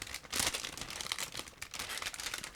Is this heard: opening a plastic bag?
yes